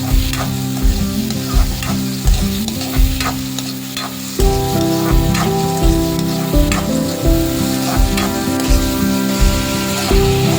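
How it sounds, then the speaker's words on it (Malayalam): Chopped tomato, cooking for a coconut beans bhaji, is stirred in a hot pan with a loud steady sizzle and a rhythmic thump and scrape of the spoon roughly every half second, close and without talk. "ഇതൊന്ന് നല്ലോണം മിക്സ് ചെയ്യാം."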